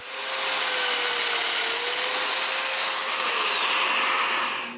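A power drill boring mortises into pine wood pieces, a steady loud whirring drone held for several seconds with a slight pitch shift partway, close and alone.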